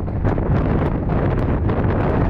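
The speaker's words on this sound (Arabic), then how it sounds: "اليوم هواء وايد" Strong wind buffets the microphone with a constant, heavy roar and rumble, no voices.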